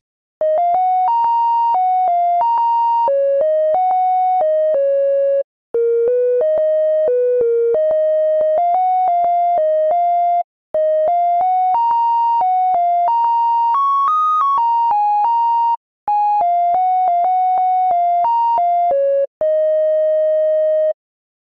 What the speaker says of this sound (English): Let's write the melody first with the sine wave.